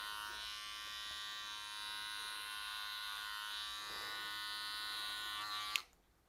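Electric hair clipper running during a two-block haircut, giving a steady close buzz for about six seconds before it cuts off abruptly near the end, with no talk over it.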